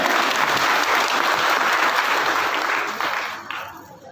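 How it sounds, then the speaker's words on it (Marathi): Audience applause fills a hall at a Buddhist Dhamma conference in Khamgaon: dense, loud clapping that holds steady for a few seconds, then tapers off. "मला तुमच्या टाळ्या नको आहेत"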